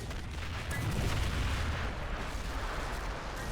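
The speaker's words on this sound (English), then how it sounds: "German artillery is counter-firing" Artillery fire from German guns in a WW1 field battle in Men of War Assault Squad, a dense, continuous low rumble of booms and blasts rolling together without a break.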